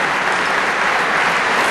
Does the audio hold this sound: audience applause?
yes